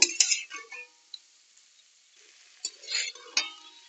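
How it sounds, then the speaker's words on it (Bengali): Spoon scraping and clinking against a pan while egg and eggplant are stirred and fried, in short bursts of metallic taps separated by quiet pauses. "সেটা একটু নেড়ে চেড়ে ভাজা ভাজা করে নেব"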